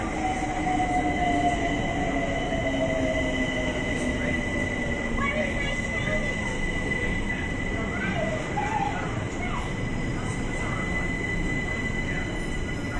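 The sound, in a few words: London Overground train at Denmark Hill station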